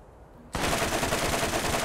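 Gunfire from a gun in the video game Borderlands: a sudden loud onset of rapid, sustained shots rattling continuously after half a second of quiet.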